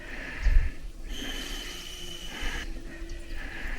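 A hiker on a mountain summit trail in Los Padres National Forest exhales slowly into a whistle, producing breathy puffs and soft airy tones in repeated slow breaths, close to the mic.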